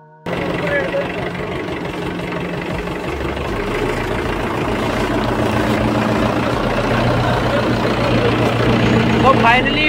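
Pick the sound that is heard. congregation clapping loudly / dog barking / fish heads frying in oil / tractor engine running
tractor engine running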